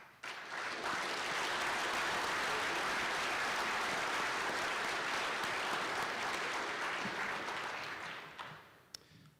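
Banquet crowd at a student design competition gives the on-site volunteers a steady, full round of applause that holds for several seconds, then tapers off and fades near the end.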